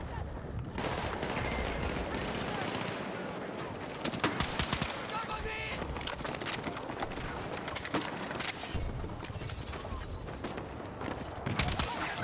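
Steady, dense gunfire from hip firing in Battlefield 6, with rapid overlapping shots and bursts running almost nonstop and a voice talking over the shooting.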